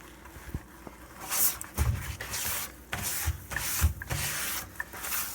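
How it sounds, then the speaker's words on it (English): Acid-stained steel being scrubbed with Bar Keepers Friend cleanser, a close, rhythmic rough rubbing in repeated strokes with brief pauses. "this is after one good scrubbing with the Barkeeper's Friend"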